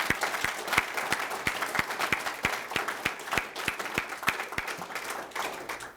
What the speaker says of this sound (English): Please, one more round of applause for all the veterans